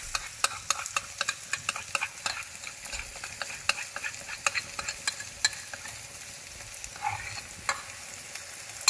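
Sauce goes into a hot pan of sizzling caramel pork belly, a soft steady frying hiss under repeated light scrapes and taps of stirring.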